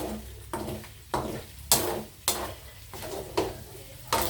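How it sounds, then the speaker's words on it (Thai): Pork fat for crispy pork rinds frying in a pan, stirred with repeated scraping strokes roughly every half second over a steady bubbling sizzle, close and clear. "เคี่ยวผัดไปเรื่อยๆนี่ค่ะ"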